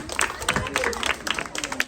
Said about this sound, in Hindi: हम डॉक्टर साहब का तालियों के साथ क्या करेंगे, स्वागत करते हैं।